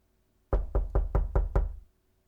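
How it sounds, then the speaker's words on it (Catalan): Six sharp knocks on a door in a quick, steady rhythm, loud and close, with silence before and after and no voices. "Qui truca?"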